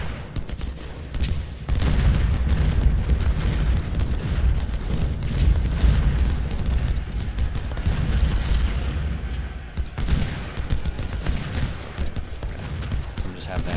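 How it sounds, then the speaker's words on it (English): Artillery booms roll continuously through a Civil War battle in Ultimate General: Civil War, heavy low rumbling cannon fire layered into a dense barrage with someone talking over it. "Some artillery shooting from here."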